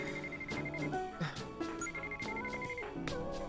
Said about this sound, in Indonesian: V pun menerima telepon dari temannya bernama Sydney.